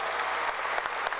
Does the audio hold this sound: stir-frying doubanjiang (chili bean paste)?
no